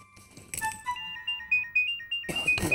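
A mobile phone ringtone plays a bright, repeating electronic melody at moderate volume. It starts between short bursts of other noise, with a sharper burst near the end.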